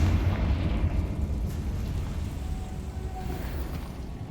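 A Confringo fire spell goes off in the Hogwarts Legacy game, a loud rumbling blast that swells at once and then rolls and decays into a low, crackling roar over several seconds, with no talking.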